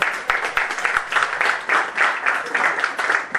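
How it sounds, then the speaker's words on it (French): Wedding guests in Paris clap for the groom Charles at Nadège and Charles's wedding, a moderate rhythmic applause that swells and dips in waves, with a few sharper individual claps near the start. "On l'applaudit, on l'applaudit."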